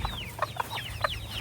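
Broody hen clucking close by in a short run of throaty clucks and chirps, about five calls in quick uneven succession with no talk.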